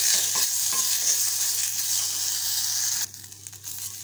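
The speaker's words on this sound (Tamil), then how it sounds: "இதோடு சேர்த்து வதக்கிக்கலாம். ஒரு 2 நிமிஷத்துக்கு வந்து வதக்கிப்போம்." Coriander, curry leaves, tamarind and ginger being sautéed in a pan, a bright steady sizzle with stirring rustles that drops off sharply near the end, close and even, no speech.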